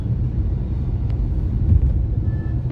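A continuous low rumble of road traffic on the Noida expressway, heard from a vehicle moving along in fog, steady and moderately loud.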